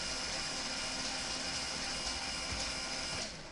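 Robot motors set to full power hum and whir steadily at a low level for a few seconds, with a mechanical, gear-like drone that eases off at the end.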